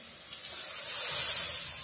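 Water is added to a hot pan while cooking a chana and potato dish, and it sends up a rising hiss and sizzle that swells and holds close and loud for about two seconds.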